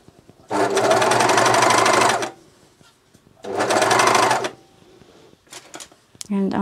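A Juki MCS1500 coverstitch machine hems fabric in the round, whirring in two bursts, a longer run then a shorter one, with brief handling clicks and a voice speaking at the end.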